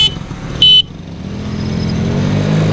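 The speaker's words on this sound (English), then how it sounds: "On the third honk, we're gone." A single short car horn honk blares over the low idle of a JDM mini bike engine, then the motor revs up and keeps droning steadily.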